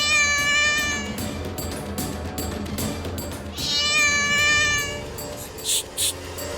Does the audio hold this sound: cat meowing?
yes